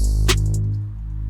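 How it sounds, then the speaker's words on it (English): A single open hi-hat in a trap beat splashes once, bright and brief, over a steady low droning bass. "let's put an open hi-hat in"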